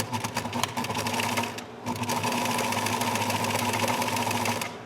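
Sewing machine running steadily as it stitches a long seam down fabric, a fast even whirring with a short pause near two seconds before the motor resumes, close and loud with no talking.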